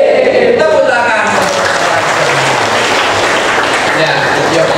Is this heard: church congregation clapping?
yes